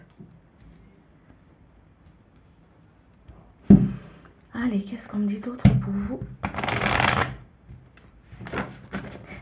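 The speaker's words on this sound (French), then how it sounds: "J'aligne un peu les cartes." Tarot cards being laid out and shuffled on a table, with soft taps and slides followed by a loud, brief riffling burst as someone talks in French over them.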